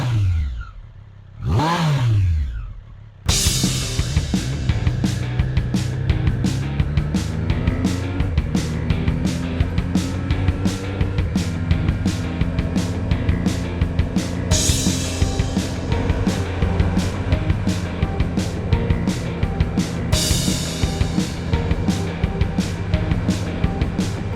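A Triumph Street Triple 765 RS motorcycle is ridden. A brief rev opens the clip, then a loud, close engine drones steadily under wind, with a few gear changes.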